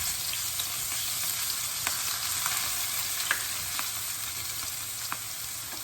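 Chili and garlic sizzle in a hot frying pan for a stir-fry of snow peas and pork balls, a loud continuous hiss with scattered small pops and crackles throughout.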